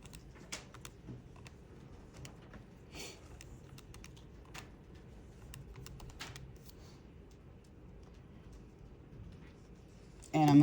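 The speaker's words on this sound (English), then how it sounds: "type in your equation" Keypad presses on a graphing calculator as a quadratic equation is entered: a quick series of light, irregular clicks and taps, close and fairly quiet over faint background noise.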